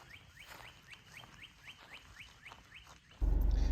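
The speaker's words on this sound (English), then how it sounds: "You can hear all the birds." Repeated short chirps from a bird at a steady pace over soft outdoor ambience on a nature trail at Colt Creek State Park, Lakeland, Florida, ending in an abrupt burst of loud buzzing noise.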